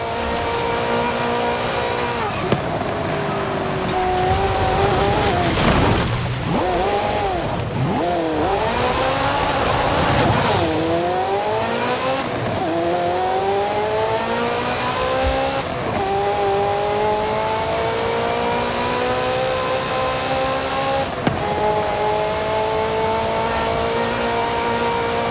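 A Ferrari race car engine in Forza Horizon revs and accelerates loudly and continuously, rising and falling pitch through repeated gear shifts, with no talk over it.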